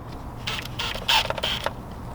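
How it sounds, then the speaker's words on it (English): Flathead screwdriver tightening a clamp on an external shock reservoir during a lift kit install on a Lexus GX470, giving short creaking, squeaky metal turns over about two seconds. "I'm gonna start tightening it with the flathead"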